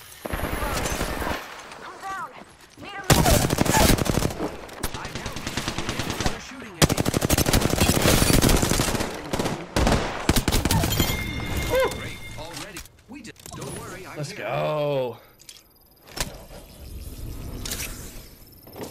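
Bursts of automatic and single-shot weapon fire in the Apex Legends video game, with rapid rattling volleys, sharp impacts and shattering sounds, broken by pauses and talk from players.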